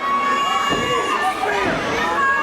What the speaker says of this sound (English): We hear this crowd. They're behind Austin Theory